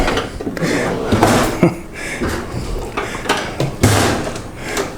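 Cluttered tool drawers pulled open and shoved shut during a search, with repeated wooden and metal thuds, rattling contents and sliding scrapes, fairly loud and close, with a few brief knocks standing out.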